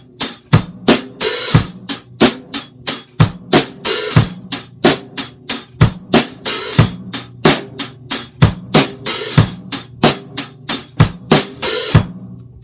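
A steady drum kit beat played up close, bass drum and snare under regular hi-hat strokes, with a longer washy open hi-hat accent in each bar.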